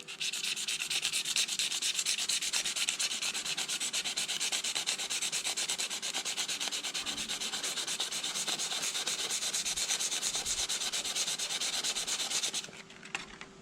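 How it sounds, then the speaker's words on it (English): Continuous rapid scratching of coarse 80-grit sandpaper rubbing hard cured epoxy, steady and close for several seconds before easing off at the end. "Let's try sanding it."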